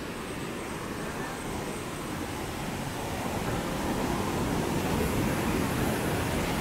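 Water rushes at Erattinpuram waterfall, running full during rain: a continuous broadband roar, close and loud, that swells slightly toward the end with no voices over it.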